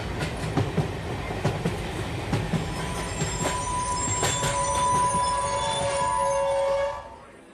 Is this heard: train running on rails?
yes